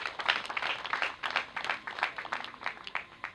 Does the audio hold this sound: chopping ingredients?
no